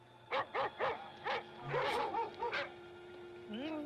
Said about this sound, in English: Those doggies are mad.